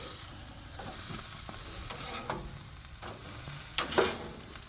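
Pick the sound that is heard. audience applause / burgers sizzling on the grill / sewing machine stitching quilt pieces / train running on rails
burgers sizzling on the grill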